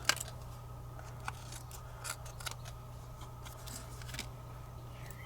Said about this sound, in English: I'm just going to cut across all of these.